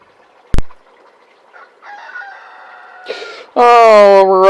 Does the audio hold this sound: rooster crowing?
yes